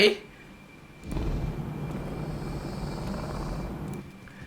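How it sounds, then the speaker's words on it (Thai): An aircraft flies overhead in the video game Teardown, a steady rushing engine drone that starts abruptly and holds at moderate loudness for about three seconds before cutting out. "เดี๋ยวเครื่องบินเองบินไปไหน"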